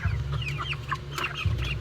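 Chickens being sorted by sex on a Filipino farm cluck and chirp in a dense, close flock with a low rumble beneath, continuous and busy.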